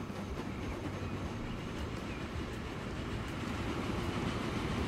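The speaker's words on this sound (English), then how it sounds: "Yeah, that's our new 10-wheeler. It's also a beautiful train, isn't it?" A 10-wheeler steam train running in the video game Transport Fever 2, a steady rolling rail rumble with faint clickety-clack, continuous and fairly quiet, with no talking.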